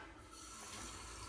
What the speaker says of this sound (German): Und werde jetzt Wasser einfüllen.